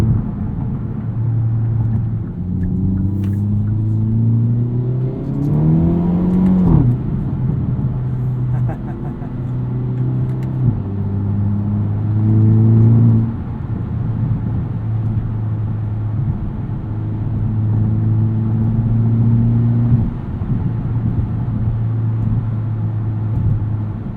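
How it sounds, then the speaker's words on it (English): A 2022 Hyundai Elantra N with dual-clutch transmission drones and hums under steady driving in sport mode, revving up and dropping back a few times, with a few faint, unpredictable sharp crackles from the exhaust. "I like that the exhaust pops are a little bit unpredictable."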